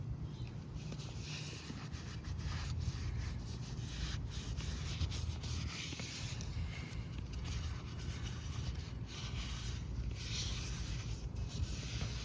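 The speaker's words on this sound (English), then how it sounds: "Now to go ahead and take a rag and clean these off." A rag soaked in rubbing alcohol is wiped over a rusty steel wheel being restored, giving a steady, close, continuous rubbing and scrubbing hiss that carries on alone for the whole stretch.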